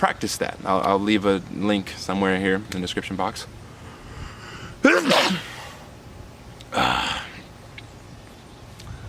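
A single loud, sharp human sneeze bursts out after someone speaks, followed by a brief breathy exhale; talking precedes it.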